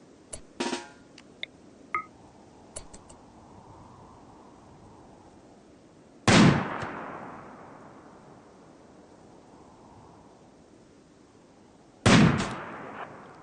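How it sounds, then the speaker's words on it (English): Sniper rifle shots in a survival video game ring out twice, each a sharp, loud crack with a long rolling echo, spaced about six seconds apart after a few faint clicks and taps. "Rimmick is already on the way and prepares her sniper rifle for action"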